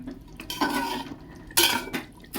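A lid is lifted off a cooking pot of slow-simmering panta bahari and the food is stirred, giving metallic clanks and two bursts of scraping and clatter close by, with no talk.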